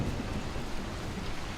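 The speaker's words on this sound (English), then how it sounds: "Thunderstorm." A thunderstorm in the video game Dying Light: The Beast, with a steady wash of heavy rain and a low rolling rumble of thunder, dense and continuous for a brief moment, with no voices.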